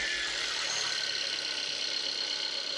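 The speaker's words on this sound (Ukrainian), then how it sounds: "Ну його трясе двигун" A 2016 Kia Ceed engine idles steadily up close, a continuous droning hum with a rough, shaking undertone from worn engine mounts, and no talking.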